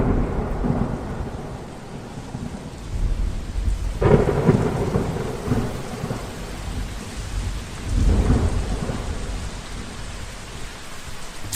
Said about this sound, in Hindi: यहाँ पर वापस आते ही बारिश शुरू हो जाती है